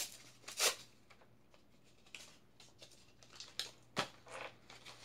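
Scissors snipping open a cosmetics package, a few quiet separate cuts and crinkles spread across the stretch, close by, with no talking.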